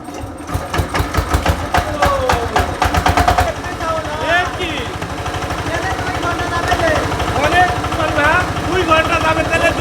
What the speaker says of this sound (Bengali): এবার স্টার্ট দিচ্ছি আপনার সাউন্ড শোনে